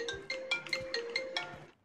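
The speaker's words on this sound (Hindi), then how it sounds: "नोकिया 3310 में आईफोन की रिंगटोन है" An iPhone ringtone played on a Nokia 3310 phone, a short bright melodic run of repeated beeping notes with a steady tone beneath, heard alone and fairly quiet.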